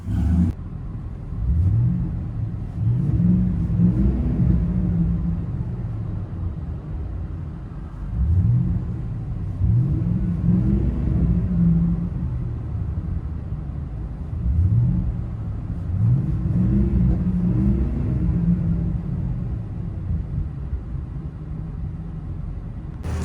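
Heard from inside the cab of a 2015 Ford F-250 Super Duty with a 6.2L V8 and Flowmaster true-dual exhaust: a steady low rumble, with revs swelling roughly every five seconds, and no talking.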